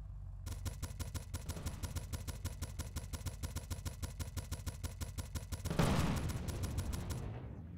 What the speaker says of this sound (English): It looks like he's shooting the repair shed as well.